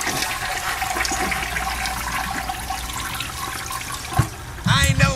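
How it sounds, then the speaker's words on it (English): A toilet flushing, a rushing swell of water held steady for several seconds before tapering, with a short clatter and a brief voice near the end. "I'm flushing that, man."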